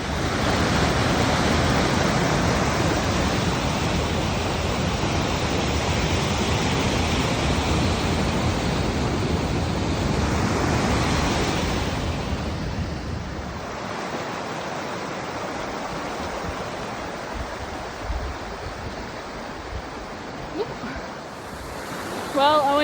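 Owen Creek rushes through a canyon, roaring steadily and loudly, a dense continuous wash that eases somewhat partway through, with no voices.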